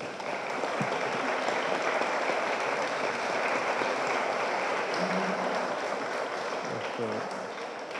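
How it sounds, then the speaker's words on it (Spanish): Sustained applause from a conference audience for a panel, steady and fairly loud throughout, with a few voices faintly audible beneath the clapping. "les pido un aplauso para todos estos panelistas"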